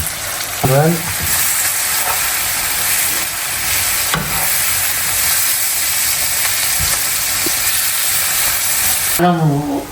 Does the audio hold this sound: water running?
no